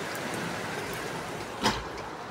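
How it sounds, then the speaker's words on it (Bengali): Heavy rain falls outside as a continuous, even wash of hiss, with one brief louder knock near the end. "বাইরে বৃষ্টি, এই যে অনেক বৃষ্টি"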